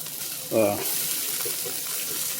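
Onions caramelize in a pan with a steady, close, hissing sizzle, and a brief voice cuts in near the half-second mark.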